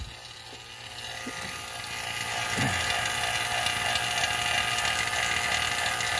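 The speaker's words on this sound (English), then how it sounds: "hook up the vacuum pump, and vacuum this thing down." A vacuum pump hooked to a leaking Coleman basement RV air conditioner hums steadily, growing slightly louder after a couple of seconds and then holding a constant drone, with a faint clunk early on.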